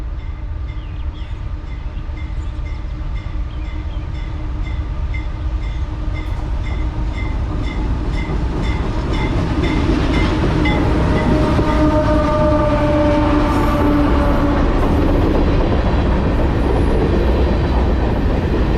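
A CSX freight train led by a C40-8W locomotive passes in Nashville, its rumble building to a loud, steady roar of rolling wagons, with a sustained horn blast heard through the passing.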